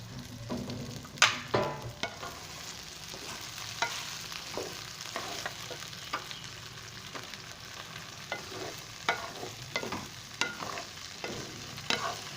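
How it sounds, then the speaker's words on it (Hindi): Okra frying in a pan, with a continuous soft sizzle broken by frequent scraping stir strokes and occasional clinks of the spoon against the pan, close by and without talk. "अभी हम भिंडियों को फ्राई कर लेते हैं, अच्छे से फ्राई कर लेंगे"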